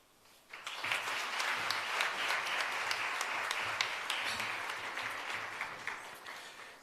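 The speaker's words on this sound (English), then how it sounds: "Another round of applause, ladies and gentlemen." A crowd breaks into sustained applause that starts suddenly, stays full for several seconds, then gradually thins out.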